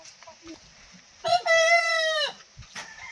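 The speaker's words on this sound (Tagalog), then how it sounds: "Baby chicken." A chicken gives a loud, drawn-out crowing call with a few short clucks before and after, close by with faint background chatter.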